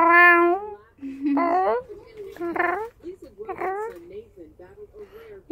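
A pet cat meows repeatedly at close range, several drawn-out, rising and falling calls spaced about a second apart, with soft voices faintly in the background.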